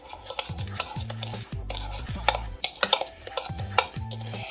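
A utensil scrapes and knocks around a metal bowl as butter garlic parmesan chicken wings are stirred, with repeated clinks and scrapes close up and a low background hum.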